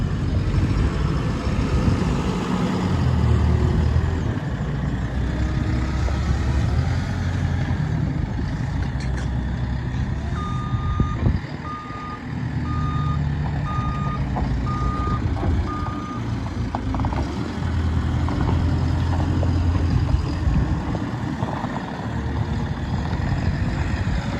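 A lorry engine rumbles steadily near a shed while a reversing alarm sounds a regular series of beeps for several seconds in the middle, with brief air-brake hiss and no voices.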